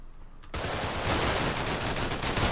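Sustained gunfire in the Combat Mission Black Sea war game: after a brief quiet start, a loud, dense rattle of machine-gun and rifle fire continues steadily without a break.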